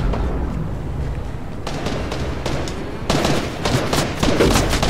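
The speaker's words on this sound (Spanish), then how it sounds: "Y ya empezaron a dispararme." Gunfire from the video game Fortnite: dense, rapid shots in overlapping bursts, growing louder and more intense partway through and staying close and harsh to the end.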